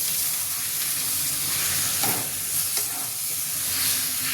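Mushroom curry with tomato sauce being stirred in a hot pan, a loud, constant sizzle and hiss with occasional scraping of the spoon against the pan.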